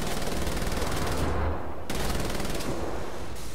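Sustained automatic gunfire in Wolfenstein: The New Order, a loud continuous stream of rapid shots with one brief break partway through, with no talk.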